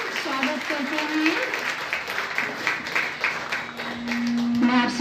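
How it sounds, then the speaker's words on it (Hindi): An audience claps together to welcome a guest at a spiritual gathering, a steady patter of applause heard under a voice speaking over it throughout. "हम सब ताली के द्वारा अभिनंदन करते हैं, स्वागत करते हैं।"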